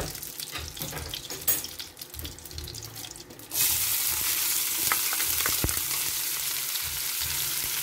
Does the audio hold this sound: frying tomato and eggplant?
yes